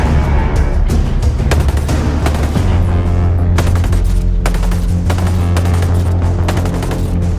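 A light machine gun roars in Ghost Recon Breakpoint, sustained loud automatic fire with rapid repeated bursts and deep booming thumps running continuously from start to finish.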